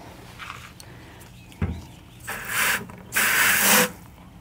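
Water sprayed onto tulip leaves to wash off dirt comes in two hissing bursts, the second longer and louder, after a few faint rubbing and handling noises and a soft knock.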